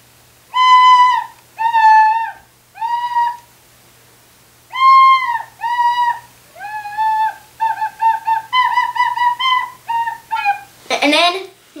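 A recorder plays a simple slow melody of clear, pure whistling notes, first spaced-out long tones and then quicker repeated notes, close and loud, ending with a short breathy noise.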